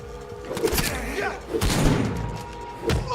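Bursts of rapid gunfire with heavy thuds and booms in the video game Vampyr come in several waves, loud and close, with a voice in the mix.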